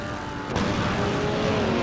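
Race cars speed past in a race, a loud continuous roar with a rising engine tone and a sharp burst partway through, filling the clip without speech.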